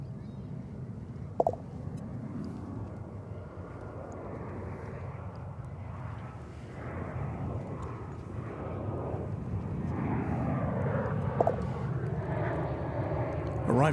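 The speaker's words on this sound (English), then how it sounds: "Arriving from Silao in Mexico is this American Airlines Airbus A319 aircraft." American Airlines Airbus A319 jet arriving at Dallas/Fort Worth Airport, a broad, distant engine roar that swells gradually and rises in pitch as the plane approaches, with faint background voices.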